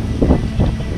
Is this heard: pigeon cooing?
no